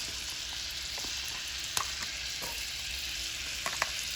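Fresh chopped garlic frying in a pan, a soft continuous sizzle with occasional small pops and a few light clicks of stirring, fairly quiet and close, no voices.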